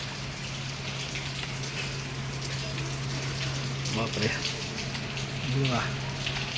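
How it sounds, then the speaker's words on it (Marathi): Heavy monsoon rain falls steadily in Mumbai, a continuous hiss of rain with a low hum underneath, while a person briefly exclaims over it. "तीन तास सतत तीन तास पाऊस पडतोय"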